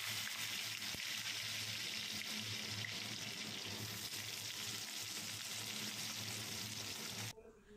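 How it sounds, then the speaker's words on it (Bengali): Cumin seeds, bay leaves and chopped potatoes fry in hot oil, giving a soft, steady sizzle that continues quietly before cutting off near the end. "ছোট ছোট করে আলু কেটেছি, আলুগুলো দিয়ে দেবো, দিয়ে ভাজা ভাজা করে তারপরে নুন হলুদ দেবো"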